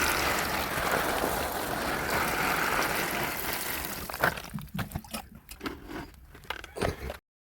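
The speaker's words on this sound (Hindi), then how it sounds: "अब देते हैं इन कटिंगों में पानी।" Water poured from a container into potted bougainvillea cuttings, running steady and close for about four seconds, then giving way to scattered trickles, drips and light handling knocks before cutting off.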